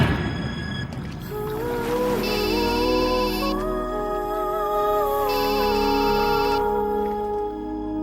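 A phone ringtone plays loudly and alone for several seconds, a repeating electronic melody with bright pulsing tones that loops twice before stopping.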